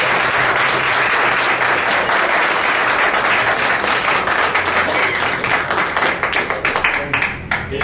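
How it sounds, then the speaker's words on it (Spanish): Sustained audience applause at a lecture on refining at PEMEX, loud and dense throughout, with individual claps growing more distinct as it tapers near the end; a few voices are faintly mixed in. "Yo pido para él un aplauso."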